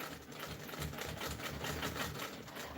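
A sewing machine stitches through a quilt in a rapid, even mechanical chatter, close-up and continuous.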